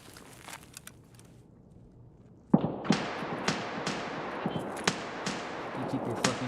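A grenade blast in the video game Escape From Tarkov, a sudden loud explosion followed by a string of sharp cracks and echoing reports, after a quiet stretch with faint distant pops.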